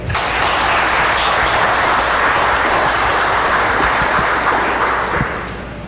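Sustained audience applause at a community meeting on Critical Race Theory in Island Pond, Vermont, a steady dense clapping lasting several seconds and fading slightly at the end.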